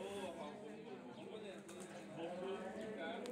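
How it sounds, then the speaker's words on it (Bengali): Many pigeons on a rooftop and below give soft cooing with a few wing flaps, steady and moderately close over a busy background murmur. "তো অনেকগুলো কবুতর ছাদের উপরেও আছে, নিচেও আছে"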